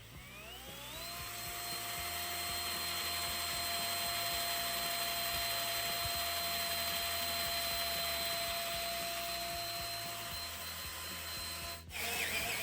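A power drill runs steadily for about twelve seconds, boring holes for rivet nuts, its whine rising as it spins up, then holding a constant high pitch close up before it cuts off abruptly near the end.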